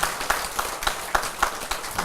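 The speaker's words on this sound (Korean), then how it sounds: "박수로 하세요." A gathering at a Buddhist monk's question-and-answer Dharma talk claps in unison, a steady rhythmic series of about eight sharp, evenly spaced claps, fairly close and without speech.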